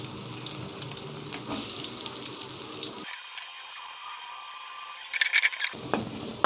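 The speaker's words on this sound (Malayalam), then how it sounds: "അതിലേക്ക് നമുക്ക് സബോള ഇട്ട് കൊടുക്കാം." Onions frying in coconut oil in a pan, a steady close sizzle that drops out for a few seconds, then returns with a burst of brighter crackling and clatter.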